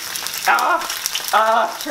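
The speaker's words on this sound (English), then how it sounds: "The sizzle is good." Steady sizzling of salmon frying in oil, with a voice speaking in short bursts over it.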